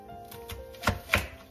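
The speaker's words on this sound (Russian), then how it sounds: "Нарезаем сначала лук." Two sharp knife chops through an onion on a cutting board, close and distinct, with a couple of softer taps before them in a quiet room.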